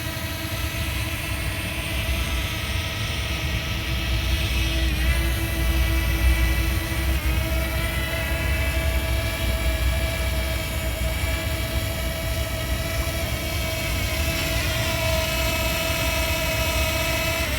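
A DJI Mavic Mini drone flying back overhead, a steady whining buzz of small rotors holding a constant pitch, moderately close and unbroken throughout.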